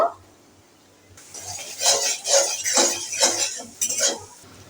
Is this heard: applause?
no